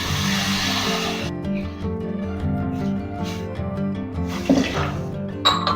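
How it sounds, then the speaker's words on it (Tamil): Water is poured into ghee-roasted rice in a pressure cooker, splashing and gurgling for about a second before tapering into quieter liquid sounds and light clinks. "4 கிளாஸ் தண்ணி ஊற்ற போகிறேன்."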